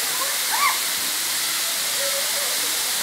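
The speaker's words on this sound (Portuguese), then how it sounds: "Que massa, cachoeira do cigano." Waterfall at Cachoeira dos Ciganos near São José dos Pinhais, Paraná, Brazil, giving a steady, loud, broad rushing roar of falling water with brief faint voices in the background.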